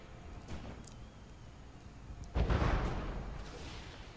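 Missile strikes landing on an airship in a naval combat video game: a faint pop early on, then a heavy low boom about midway that rumbles and slowly fades, with no voices.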